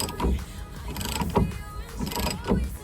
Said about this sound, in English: there's two 13mm bolts, I think, that we need to get undone in here